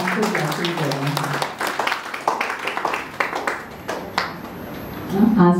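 Scattered clapping from an audience at a Brahma Kumaris centre program in Delhi, irregular hand claps continuing under steady talk from a speaker.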